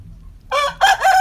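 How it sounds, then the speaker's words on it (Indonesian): A Bangkok rooster with mixed black and white plumage crows loud and close, a short harmonic call in two bursts with a brief break, over faint low background noise. "ini ayam jago bangkok ini warna widu"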